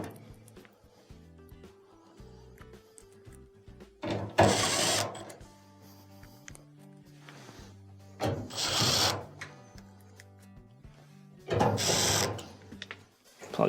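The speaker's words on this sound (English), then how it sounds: "Let's go ahead and reinstall our screws." Screws go back into an LG dryer with a power drill, which whirs loud and close in three separate bursts. Quieter rattling and handling noises come in between, and no one speaks.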